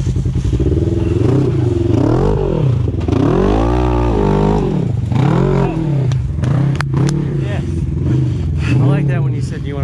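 An off-road vehicle climbing Hardline Hill, its engine loudly revving and falling in repeated surges that alternate between strain and easing, with people talking over the engine noise.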